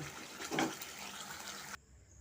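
Prawn malai curry pours from a pan into a serving dish, a soft liquid gush with a brief thicker glug near the middle, close and steady, ending abruptly in near silence.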